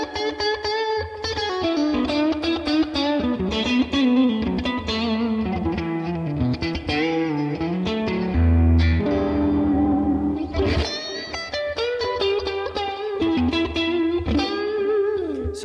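Electric guitar played through a Tone King amp with overdrive, a little compressor and tremolo, in an 80s-style tone. Loud, sustained chords and ringing single notes play continuously, with no voices over them.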